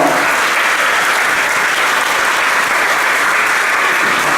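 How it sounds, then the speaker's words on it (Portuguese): A congregation at a Catholic Mass claps in honor of Our Lady, a loud, dense, unbroken wave of applause held steady throughout. "Salve de palmas para Nossa Senhora."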